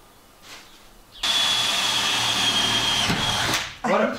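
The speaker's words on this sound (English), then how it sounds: "This is a little bit different than the old drill." A power drill fitted with a new bit whirs loudly and steadily for a little over two seconds at close range inside a school bus conversion, then stops and gives a brief second burst.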